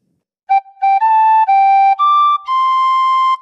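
A tin whistle plays the opening of the Happy Birthday melody alone, several clear, bright sustained notes in short phrases, loud and close with brief breaths between them.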